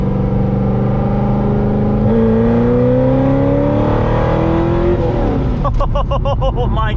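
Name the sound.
800HP Corvette Z06 accelerating hard in a third gear pull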